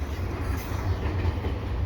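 A CPKC freight train with a Kansas City Southern locomotive rolls steadily past nearby, a continuous loud rumble of wheels and cars with no break.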